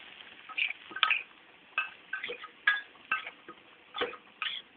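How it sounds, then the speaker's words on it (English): Utensil stirring taro (arbi) fry in a pan after salt and roasted chana dal powder go in, giving a run of close scraping clinks and rattles in irregular bursts, with no talk. "Give it a good mix."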